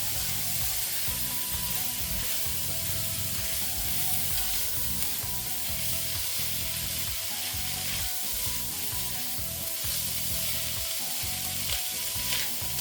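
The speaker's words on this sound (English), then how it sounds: "They just need to warm up in the pan" Konjac noodles warming in a hot pan, a steady close sizzle and crackle of frying with occasional stirring scrapes, continuous and even throughout.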